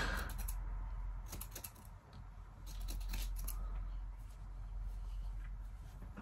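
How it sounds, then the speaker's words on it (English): Scissors make quick snipping cuts into a hair system, close but faint, in short bursts over a steady low hum. "Check they're the right scissors."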